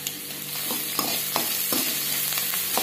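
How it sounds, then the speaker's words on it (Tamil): Onions sautéing in oil with a little salt, a steady close sizzle with soft rhythmic scrapes of a stirring spoon every half second or so, no voices. "சேர்த்து நல்லா வதக்கி விட்டுறலாம்."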